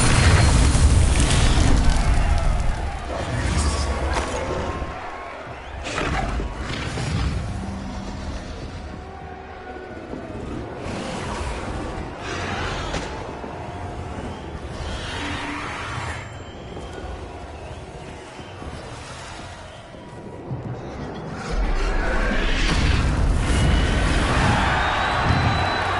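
Spell blasts in the video game Hogwarts Legacy: repeated booming explosions and bursts over a dense, rumbling combat mix, loud and sustained with heavy low-end surges at the start and end.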